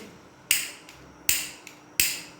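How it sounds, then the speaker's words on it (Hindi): A gas stove burner is switched on with sharp, close igniter clicks: three loud, evenly spaced snaps about three-quarters of a second apart, and a fourth just starting at the end. No voices are heard. "तो अब हम चूल्हे की आग ऑन कर देंगे"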